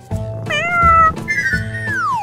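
A cartoon cat meows in a children's animated story, with three clear, close meows, the last one long and falling.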